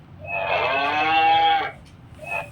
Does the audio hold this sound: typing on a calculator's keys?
no